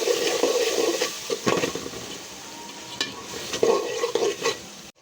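Ground spice paste hits hot oil for a chicken khichuri bhuna and is stirred, giving a bright, continuous sizzle punctuated by spoon scrapes before it cuts off abruptly.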